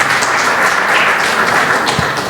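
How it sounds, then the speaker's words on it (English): Audience applause for a speaker at a women's health panel discussion, a loud continuous wash of many hands clapping close by with no voices over it. "Please give a round of applause for her."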